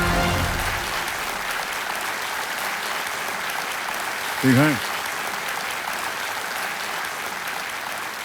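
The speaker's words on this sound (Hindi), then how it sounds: "ताली बजते रहे।" Studio audience applause at a televised quiz show set, a broad steady wash of clapping running throughout, with a brief spoken voice breaking through midway.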